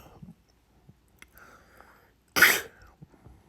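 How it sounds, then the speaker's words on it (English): One sharp, loud cough bursts out close to the microphone, preceded and followed by faint mouth clicks and soft breathing in an otherwise quiet room. "Sorry for if I start coughing."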